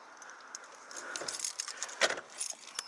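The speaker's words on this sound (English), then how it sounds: "These are the new keys." Car keys for a 1995 Volvo 940 jangle and clink in a quick, close burst of metallic rattles, loudest near the middle, with no talking over them.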